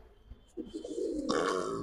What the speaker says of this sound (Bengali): আমার অনেক পছন্দের একটা জেনারেশন এই সাপচিলা কবুতরটা